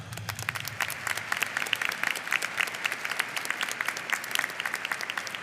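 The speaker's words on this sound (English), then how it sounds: "Please give them a big round of applause" Audience at an annual stoling ceremony applauds staff and volunteers, a steady burst of many hands clapping at close range, with sharp individual claps standing out and a low murmur fading early.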